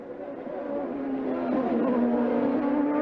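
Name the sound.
IndyCar race cars racing into a corner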